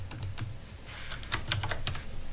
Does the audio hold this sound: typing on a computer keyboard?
yes